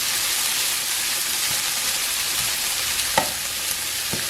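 Diced Canadian bacon sizzles steadily in a hot pan, a continuous close frying hiss with a few faint clicks of a utensil near the end.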